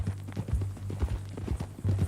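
Horse hooves clip-clop at a walk in Red Dead Redemption 2, an even rhythmic plodding of several close steps over a low steady hum.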